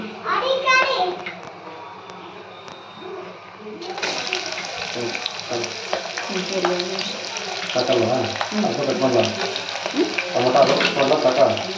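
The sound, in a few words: onions frying for Hyderabadi chicken biryani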